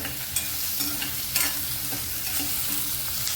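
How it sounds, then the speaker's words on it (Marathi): Fried onion being lifted out of a sizzling pan for a Kolhapuri vegetable dish, steady frying hiss with several scraping clinks of a utensil against the pan, loud and close. "तर आपला कांदा आणि सुद्धा फ्राय झालेला आता एक काढून घेणार आहे"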